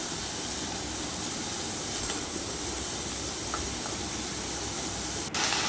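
Eggplant pieces sizzle and hiss steadily in hot oil with dry red chilli and whole spices, a continuous close frying crackle with a faint scrape of stirring near the end.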